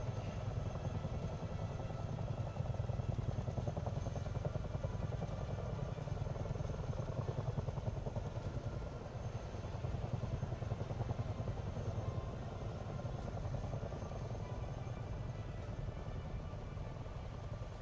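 Miltech Simulations CH-47 Chinook tandem-rotor military helicopter in Microsoft Flight Simulator 2024, a steady loud low rotor and turbine drone with fine rhythmic blade chop, continuous and unchanging throughout with no talk.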